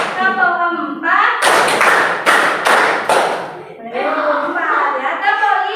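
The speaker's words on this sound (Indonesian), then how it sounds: "Tepuk 1, tepuk 2, tepuk 3, tepuk 4," A group claps hands in a counted pattern led by an instructor during a class exercise, with a run of sharp, loud, close claps set between stretches of the instructor's voice.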